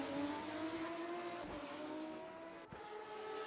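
F3 race cars in a video game at the Red Bull Ring drone along at steady high revs, a continuous engine whine with a couple of brief shifts and dips, moderately loud with no voices.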